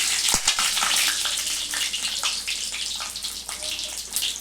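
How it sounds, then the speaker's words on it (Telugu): Mustard and cumin seeds splutter in hot oil, a crackling sizzle with rapid pops and a couple of sharp knocks early on. "నూనె కాగినాక మంచిగా పోపు గింజలు వేసుకుంటే అవి కొంచెం ఆవాలును జీలకర్ర కొంచెం చిట్టుపట్లు ఆడినాక"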